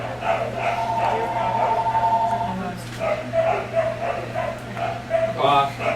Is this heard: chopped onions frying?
no